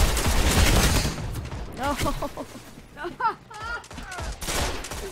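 Bursts of MIDA Multi-Tool rifle fire in a Destiny Crucible match, loud rapid shots in the opening second, then scattered quieter fire and game effects while someone speaks over it.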